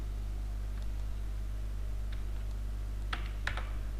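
Keys clack on a computer keyboard as Java code is typed, a few scattered light taps early and then a quick close burst of keystrokes over a steady low electrical hum.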